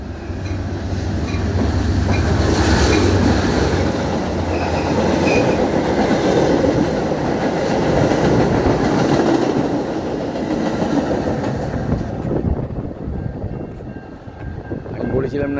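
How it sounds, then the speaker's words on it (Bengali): A mail train runs through Prospect Heights railway station in Illinois without stopping, a loud sustained roar and rumble of wheels on rails building and then fading away at the end. "একটি ট্রেন আসছে, সম্ভবত এটি মেল ট্রেন"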